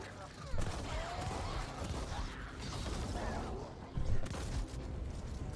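Shotgun blasts in the sci-fi shooter game The Ascent: two heavy bursts, one early and one near the end, over busy mechanical game noise and clanks.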